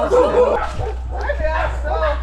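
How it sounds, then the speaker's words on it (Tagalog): A dog barks and yips close by while people talk over it. "Ala, may aso."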